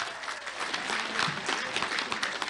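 Crowd applause at a Bolivian political gathering with union leaders present, a dense, steady wash of many hands clapping at moderate level with faint voices mixed in.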